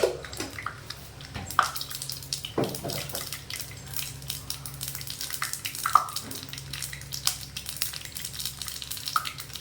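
Mustard seeds splutter and crackle in hot oil, a steady sizzle broken by sharp little pops and irregular bursts throughout.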